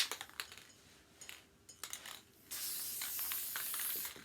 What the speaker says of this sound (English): So then basically it's just a quick spray.